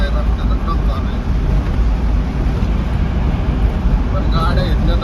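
A steady, loud engine rumble of a truck on the road, continuous throughout with broadband road noise and no clear pauses.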